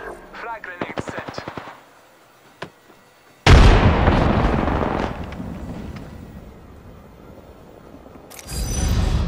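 A frag grenade goes off in the Apex Legends battle royale game, a sudden loud broadband blast that rumbles and decays over several seconds amid other game combat sounds, with a second heavy burst near the end.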